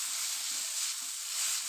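Egg chow mein with a little tomato sauce being stir-fried in a pan, heard as a steady, even sizzle and hiss, close and continuous, with faint soft stirring movement underneath.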